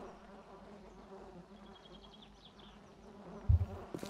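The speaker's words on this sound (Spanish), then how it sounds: "las moscas dando vueltas" Flies buzz and circle in the video game 7 Days to Die, a steady low insect drone running throughout, with a louder bump near the end.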